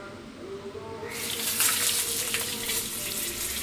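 Sliced plantain chips drop into hot oil, which bursts into a loud, steady sizzling hiss that continues close up after a quieter start.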